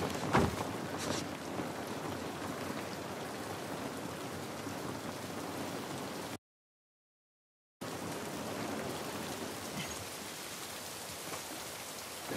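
Rain in The Last of Us Part I, a continuous hiss of drops pattering on surfaces with a faint wind bed, steady and fairly quiet, with one brief silent gap partway through.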